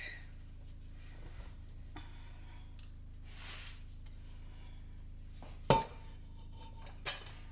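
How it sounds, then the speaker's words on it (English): Roasted vegetables tipped into a cooking pot for tomato soup, soft scraping and rubbing followed by two sharp clanks of utensil against the pot, close by with no talking. "And then put in the roasted vegetables."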